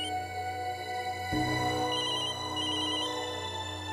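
A phone ringtone chimes in short repeated bursts over a steady indoor background hum during a TV drama scene, with no talking while it rings.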